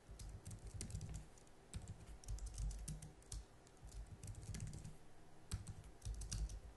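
Rapid typing on a computer keyboard while entering a password into auto detail shop management software, a steady run of clustered keystrokes with no talking.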